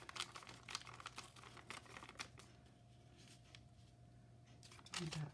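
Tea-stained paper being torn by hand, a close series of short ripping and rustling bursts over faint background hum.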